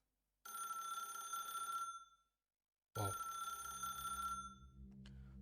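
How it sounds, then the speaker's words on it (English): A telephone rings in a booth in the video game Path to Nowhere, two loud electronic bell bursts separated by a brief silence, and a single voice reacts briefly near the end. "The phone suddenly rings in the booth"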